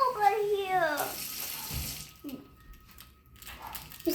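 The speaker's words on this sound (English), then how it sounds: "you need a cup of cold water. So I'm just going to go to the sink for this" Cold tap water runs into a kitchen sink while a cup is filled, a steady splashing rush that starts after a voice and carries on under quieter room sounds.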